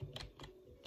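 Quick keyboard keystrokes enter a nickname during Pokemon Platinum, a few soft clicks in a short uneven burst against quiet background noise.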